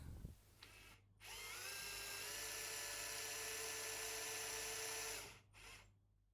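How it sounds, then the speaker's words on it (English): A small drill bores pilot holes for locating pins in a guitar build, spinning up with a high whine, holding steady for about four seconds, then winding down and stopping, close and alone. "I drilled some pilot holes for some locating pins that I'm going to use"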